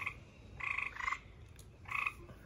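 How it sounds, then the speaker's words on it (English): A frog, seemingly down in a gutter, croaks in three short rhythmic bursts, fairly close and clear over a faint outdoor hush. "I think there are frogs amongst us."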